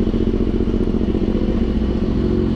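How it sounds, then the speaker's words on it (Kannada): A BMW S1000RR sport motorcycle engine runs loud and close, holding a steady, gruff mechanical drone with a slight clatter throughout and no voices. "ರೇವ್ ಮಾಡ್ತಿರೋದು."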